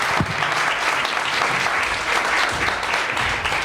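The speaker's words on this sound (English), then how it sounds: "May we give a round of applause to our participants." Audience at a mental health and suicide prevention forum giving a dense, steady round of applause for the participants on stage, loud and close for a few seconds.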